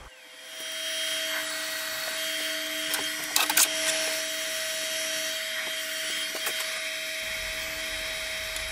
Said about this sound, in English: Lathe speed's about 1700.